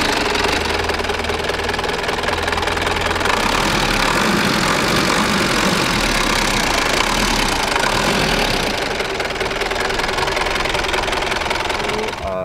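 A 1989 Toyota Land Cruiser BJ74 with its 3400cc 13B-T turbo diesel and manual gearbox idles close by, a steady rough diesel rumble with a rapid knocking clatter that continues unbroken for the whole stretch.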